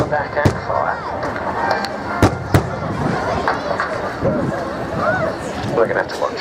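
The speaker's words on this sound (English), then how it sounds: "can you see those explosions?" Pyrotechnic charges go off to simulate a ground attack at an RAF Cosford air show, a few sharp cracks standing out from a steady wash of crowd noise and engine drone, with people talking throughout.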